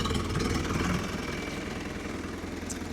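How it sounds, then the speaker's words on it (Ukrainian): A four-cylinder KENTAVR 404 XU tractor engine idles smoothly close by, a steady low rumble with regular pulsing and no talking. "Чотирьохциліндровий двигун працює рівненько і красиво, як автомобіль."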